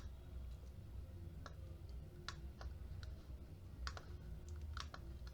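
Mouse clicks while working in Blender 3D software, a scattering of sharp, close ticks, some single and some in quick pairs, over a faint steady room hum with no talking.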